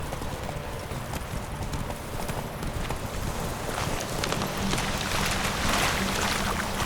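Clip-clop of a horse's hooves in The Witcher 3: Wild Hunt, a steady rapid rhythm running the whole time at close range over a noisy outdoor game soundscape, growing a little louder toward the end.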